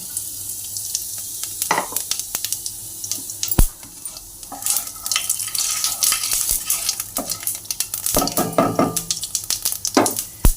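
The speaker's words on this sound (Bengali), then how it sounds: "এবার জিরেটা আমি এখানে কড়াইতে তেল দিয়েছি সামান্য পরিমাণে, জিরে ফোড়নটা দিয়ে দিচ্ছি।" Cumin seeds frying in a little oil in a wok, with soft crackling sizzle under clattering stirring and scraping of a spoon, plus some watery sounds, no talking.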